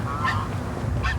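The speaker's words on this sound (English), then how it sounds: "There are ducks and geese, and there are even some chickens." Geese at the Santa Barbara Bird Sanctuary give two clear honks about a second apart, close by, over a low background murmur.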